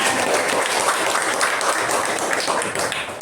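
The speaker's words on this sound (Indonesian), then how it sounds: "Beri tepuk tangan untuk temannya" Students in a junior high school Indonesian-language class clap for classmates after a group presentation, a soft, dense patter of hands filling the room without talk.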